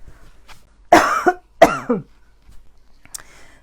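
Two harsh coughs close together, near and fairly loud, followed by a faint throat sound and quiet background.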